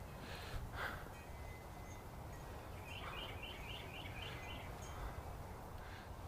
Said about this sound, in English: The wind chimes, the birds.